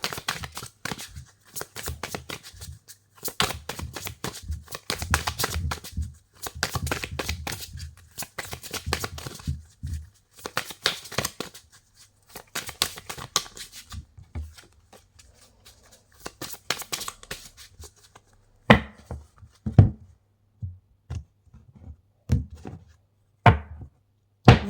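Tarot cards shuffled by hand, repeated riffling bursts of crisp paper flutter in irregular runs, then sparser single slaps and taps as the deck is handled, close and fairly quiet.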